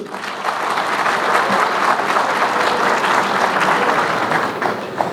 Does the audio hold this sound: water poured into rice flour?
no